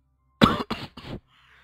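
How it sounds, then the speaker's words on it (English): A person coughs three times in quick succession, close and fairly loud, each cough short and dry with brief gaps between, followed by quiet. "sorry, I got a bit of a cough right now."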